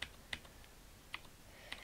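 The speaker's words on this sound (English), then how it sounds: "I'm just going to use my keys on the keyboard" Keys pressed on a computer keyboard, four sharp isolated clicks spaced unevenly over a quiet room background.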